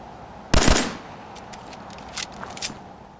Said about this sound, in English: The classic sounds of the 10mm pistol come rushing back